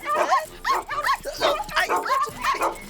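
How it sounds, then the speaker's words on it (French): A cartoonish dog in a Charlotte aux Fraises video game gives a string of about six yipping barks and whimpering bow-wows in quick succession, close and clear with no other sounds. "Gentil toutou, qui veut un bon biscuit pour chien?"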